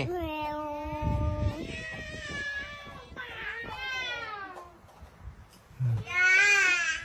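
A voice imitates a cat, giving several drawn-out, wavering meows in a row with short pauses, close and fairly loud.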